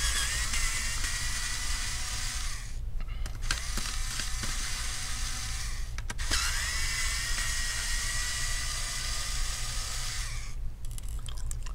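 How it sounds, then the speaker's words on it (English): Hinge screws being removed from an HP 17 laptop: a steady, close mechanical whir with small clicks and brief pauses, and no talking. "So go ahead and remove the two screws."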